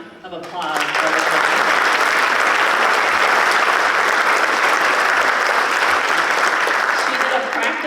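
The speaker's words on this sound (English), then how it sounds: "Another round of applause for her." An audience at the 2025 Hawai'i Wildfire Summit bursts into loud, sustained applause that swells quickly after a brief quiet start and carries on steadily to the end.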